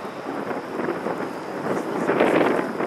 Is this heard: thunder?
yes